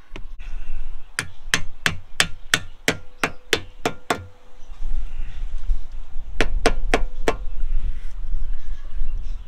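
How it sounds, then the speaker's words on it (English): Hammer blows drive end caps into a home-made awning, a rapid run of about ten sharp metallic strikes, a pause, then four more, loud and close with no talking. "He's going to have to get a hammer."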